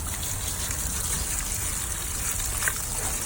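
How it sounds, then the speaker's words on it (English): Water gushes steadily onto a western saddle during rinsing, a continuous close splashing spray with no talking. "get this rinsed off"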